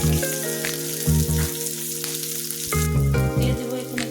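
Chopped onion and sliced green chilies sizzle steadily in mustard oil in a pan alongside spinach, with a continuous close frying hiss and bursts of stirring and clatter, no voices.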